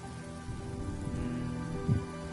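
Steady rain from the video game Honkai: Star Rail, a soft continuous wash of falling drops with a faint low rumble beneath, quiet and even throughout with no voices.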